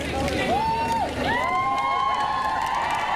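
A crowd at a K-COVER dance awards event cheers and whoops loudly, with shouts and rising yells over continuous applause-like crowd noise.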